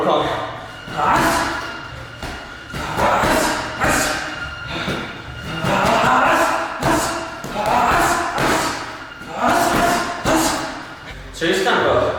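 Gloved punches thud into a boxing heavy bag in repeated bursts of several quick shots, close and fairly loud, with short pauses between combinations during a boxing workout.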